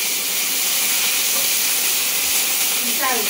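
Fried rice frying in a pan, a loud, constant close hiss of steam and sizzle that holds steady for a few seconds with a brief scrape near the end.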